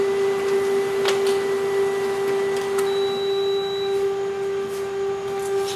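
A Canon ImageClass MF644Cdw color laser printer prints a page, giving a steady mechanical whir with a strong constant hum, a few soft clicks, and a brief high tone partway through, with no talking.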